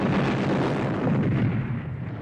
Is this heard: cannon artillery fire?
yes